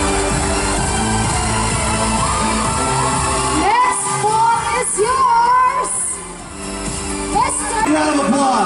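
An audience at the Mister International Philippines pageant erupts with loud shouts, whoops and cheers, a dense, close roar that swells, dips briefly, then rises again.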